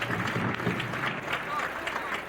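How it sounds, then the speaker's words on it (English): A hockey arena crowd applauds a player skating to the bench at a 1984 college national championship, a steady dense wash of clapping and cheering under a commentator's talk. "Crowd gives him a nice hand."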